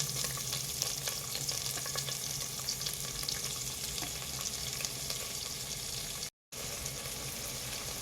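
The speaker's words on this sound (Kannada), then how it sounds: "ಚೆನ್ನಾಗಿ ಫ್ರೈ ಮಾಡ್ಕೊಳ್ಳೋಣ" Sliced onions frying with salt in a pan, a steady, close sizzle with faint scraping running throughout, broken by a brief dropout near the end.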